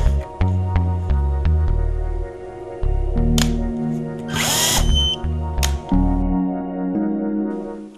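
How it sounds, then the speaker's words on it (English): A power tool whirs in a short, loud burst as it drives a screw into a torque screwdriver tester, with steady background music playing throughout. "Then apply torque to the screw using the power tool."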